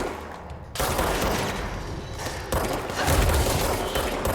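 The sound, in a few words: gunfire in a firefight from the video game Control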